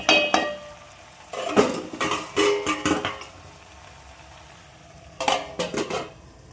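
Spinach and lentil curry (bachali kura pappu) being stirred in a cooking pot, with a few bursts of metal utensil scraping and clinking against the pot, separated by quieter pauses over a soft background hum.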